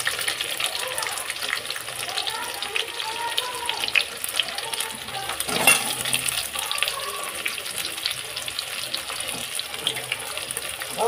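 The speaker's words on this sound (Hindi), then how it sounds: "मैं इसमें प्याज डालूंगी" Chopped onion dropped into hot oil crackles and sizzles steadily in a pan, a close, rushing, even hiss that runs throughout with small bursts, no speech over it.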